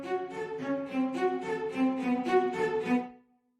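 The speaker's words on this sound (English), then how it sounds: "This is the spiccato cello." Short, punchy spiccato cello notes, shortened for attack, repeat in a steady bouncing rhythm of about a dozen strokes, each with clear harmonic body, then a brief ring-out into silence; close and alone, with no voices.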